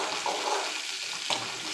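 Onion and tomato sizzle softly in a pan for capsicum chutney, a brief, steady frying hiss with a faint stir near the end.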